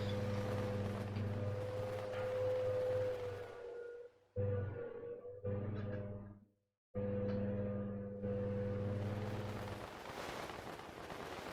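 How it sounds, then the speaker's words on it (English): A lawnmower runs nearby with a steady, droning motor hum and a rough broadband rush. It cuts out briefly a few times before resuming at full level. No one speaks. "That noise is a lawnmower."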